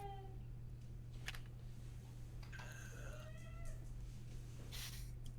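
A cat gives a couple of faint, thin meows against a steady low hum, brief calls spaced a few seconds apart, quiet and somewhat distant.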